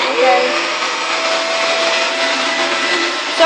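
A vacuum cleaner runs in a hallway with a loud, steady whirring roar that holds constant from start to finish.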